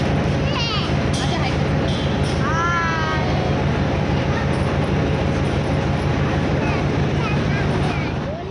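A passenger train running from Solapur toward Pune gives a loud, steady rumble and rhythmic clatter from inside the carriage, with faint voices mixed into the constant noise.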